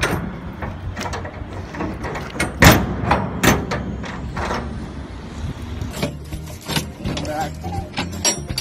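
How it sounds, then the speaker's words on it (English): Steel doors of an ISO shipping container are swung shut, with a series of loud metallic clanks, bangs and rattles of latches and locking rods, a heavy slam near the middle, and someone talking at moments. "The right hand door closes in the left hand rod."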